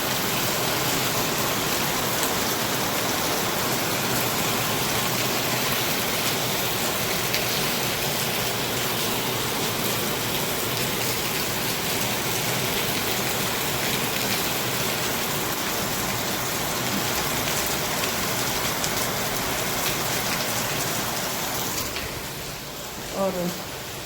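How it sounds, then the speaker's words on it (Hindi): Heavy monsoon rain pours down in a steady, dense roar outside a home during a power cut, loud and unbroken throughout, with a few faint knocks near the end. "बहुत तेज बारिश हो रही है, बहुत भयंकर, बहुत ज़्यादा"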